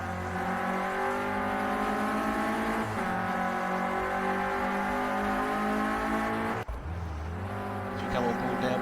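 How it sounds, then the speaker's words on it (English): A Renault Clio Cup race car roars through a race at Silverstone, its engine note rising and falling with upshifts and a sharp drop near the end, loud and continuous while a commentator talks over it. "managing to control the car."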